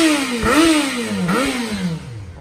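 Yamaha XJ6 motorcycle with a modified exhaust revs twice in quick succession, the engine note rising and falling sharply each time. It is loud and close, with no talk.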